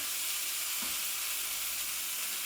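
Red onions softening in a frying pan give off a steady, even sizzle with a soft hiss, continuous and close throughout, with no talking.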